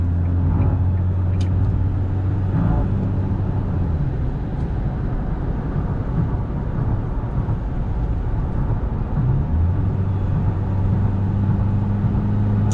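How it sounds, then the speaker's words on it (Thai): An Isuzu D-Max 1.9 Hi-Lander four-door raised pickup driven at night at full throttle: a steady, loud engine drone with low rumble and road noise heard from inside the cab, with the pitch shifting slightly as it pulls. "ไปรอตาเร่งกันดูก่อน เนี่ยนี่คือเหยียบสุดเต็มร้อยเลย"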